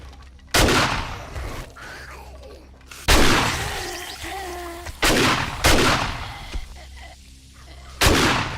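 Four widely spaced loud gunshots go off in 7 Days To Die, each a hard crack with a short echoing tail. Talk runs between the shots.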